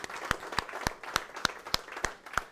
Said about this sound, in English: let's give it up for Jason Harris for putting on this event.